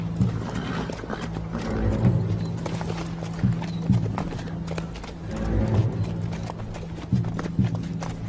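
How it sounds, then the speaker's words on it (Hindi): Horse hooves clip-clop in a rhythmic, repeated pattern of loud, close strikes, with a brief whinny in the mix. "उसी के घोड़े की सुम है"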